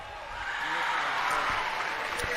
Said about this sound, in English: Don't be saving up that applause